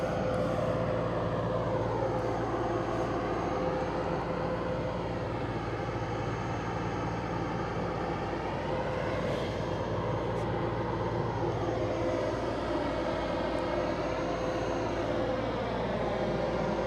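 ATR turboprop airliner engine running up at a runway-side celebration event, a steady loud drone with slowly shifting rising and falling tones that holds throughout, with no talk.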